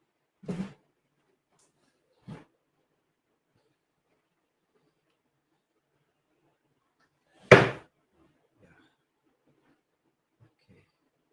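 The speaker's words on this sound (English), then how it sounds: "I'll just shut my door, okay?" Several separate thuds from a door being pushed shut indoors: two light knocks close together, then after a pause a single louder, sharper bang, with near silence in between.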